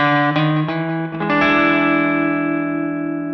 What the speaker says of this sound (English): we can play just a chromatic approach going from the D to the E.